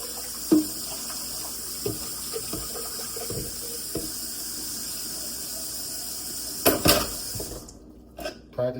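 Tap water runs steadily into a soup pot in a kitchen sink while it is rinsed. Occasional clanks and knocks of the pot sound against the basin, and the flow cuts off near the end, followed by a few last clunks.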